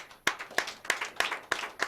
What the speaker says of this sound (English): Ordinary President is sending a clap to Mr. President